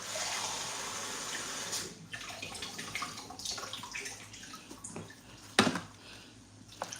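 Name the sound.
water being poured into a blender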